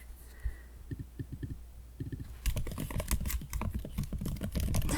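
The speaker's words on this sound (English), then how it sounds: "I'm just gonna type up your answers really quick" Quick bursts of keystrokes on a computer keyboard, first in short separated clusters, then denser, continuous typing with a soft low rumble underneath, close and fairly quiet.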